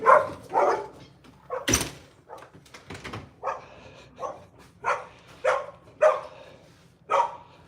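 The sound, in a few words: dogs barking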